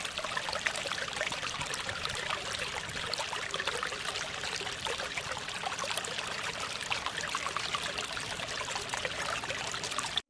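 Continuous rush and trickle of river water flowing, a steady dense wash that stays even throughout, with no voices.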